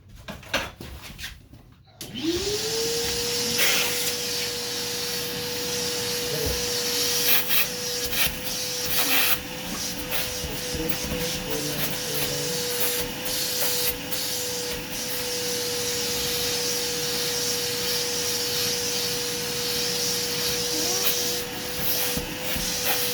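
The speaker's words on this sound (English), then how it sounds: "I'll vacuum." A vacuum cleaner starts up after a brief pause and keeps running with a steady, loud motor whine and airy rush for the rest of the stretch, with no talking over it.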